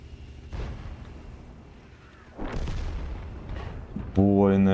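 A tank cannon fires in a tank video game: a few heavy booming blasts with long rumbling tails, spaced seconds apart, followed by a loud tonal game sound at the end.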